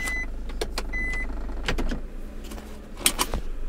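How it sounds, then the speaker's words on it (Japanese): A Nissan Serena's electric parking brake engaging automatically gives a series of short mechanical whirs and clicks from inside the cabin, close and moderately loud over a steady low hum. "電動パーキングブレーキが自動で働きます。"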